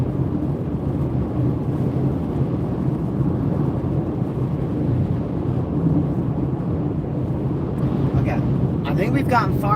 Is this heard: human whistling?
no